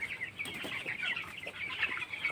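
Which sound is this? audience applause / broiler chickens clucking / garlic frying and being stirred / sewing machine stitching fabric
broiler chickens clucking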